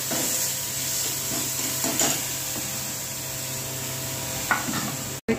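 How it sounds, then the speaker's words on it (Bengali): Ginger and garlic frying in oil in a pan for booter dal, a continuous close sizzle with occasional stirring scrapes and soft knocks, ending in a brief sharp click. "আদা রসুন হালকা ভাজা ভাজা হয়েছে"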